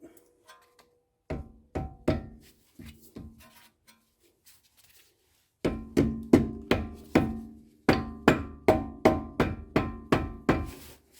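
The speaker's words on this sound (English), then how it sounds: "Hammer a little bit." Metallic hammer strikes on a Honda Accord control arm bushing, a few scattered blows, then a steady run of rapid, evenly spaced hits, close and loud, with no talking.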